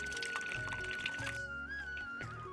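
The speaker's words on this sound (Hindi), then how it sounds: "शुद्ध एकदम ठंडा पानी आता है यहाँ पर, फ्रिज का जैसा" Cold, clear spring water flows from a mountain source in green hill country, a steady close-up pour with a constant rushing wash and light splashing throughout.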